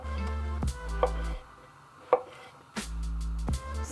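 A knife cutting mushrooms into rough pieces on a board for a Carpathian roast, a few separate sharp strikes over a steady low kitchen hum.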